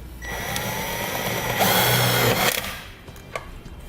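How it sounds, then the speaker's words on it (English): A 1/4 inch bit driver drives a self-tapping screw through a ring terminal eyelet into vehicle sheet metal on a 2016 Dodge Journey, giving a steady close whirring drill sound for a few seconds that surges briefly, then stops. "we'll take a 1/4 inch bit driver and go right into the sheet metal"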